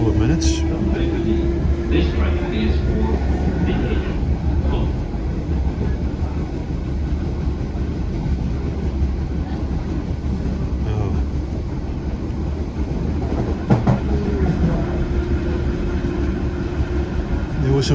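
Onboard an Irish Rail Class 8100 electric multiple unit running between Greystones and Dublin Connolly: a steady, loud interior rumble and hum of the moving train throughout, with a few brief clanks and occasional faint voices in the carriage.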